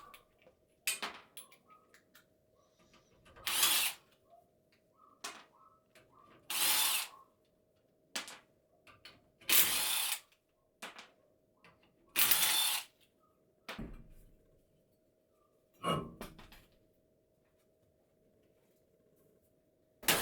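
A ratchet works on a car's wheels as they come off during subframe removal for an engine swap: about eight short, loud, whirring bursts of one to two seconds each, separated by quieter clicks and handling noises, with no talking.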